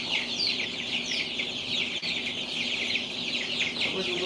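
Baby chicks and ducklings peep nonstop in a dense, high-pitched chorus close by, the chirping steady throughout without a break.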